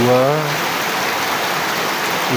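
Heavy rain pours down in a dense, steady hiss that fills the clip from start to finish, with a brief voice-like hum at the very start.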